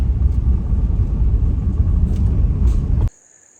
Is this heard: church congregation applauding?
no